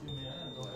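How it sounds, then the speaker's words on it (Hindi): Multimeter continuity buzzer sounding while testing a bridge diode in TV repair, a steady thin high-pitched beep held throughout, fairly quiet under a low background hum. "तो ये देखिए बजर की आवाज़ आ रही है,"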